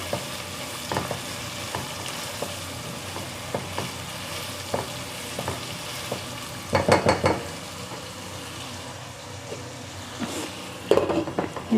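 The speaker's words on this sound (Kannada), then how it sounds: "ಇದು ಸ್ವಲ್ಪ ಈರುಳ್ಳಿ ಫ್ರೈ ಆಗಬೇಕು" Onions for a cabbage palya fry in a pan with a steady dense sizzle, broken by a few scraping stirs and clinks of a spatula against the metal, close and with no talking.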